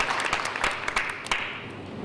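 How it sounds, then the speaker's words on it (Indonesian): A church congregation applauds during a sermon, a steady wash of clapping from many hands with a few sharper claps standing out, moderately loud and continuous throughout. "Beri tepuk tangan buat Tuhan, saudara."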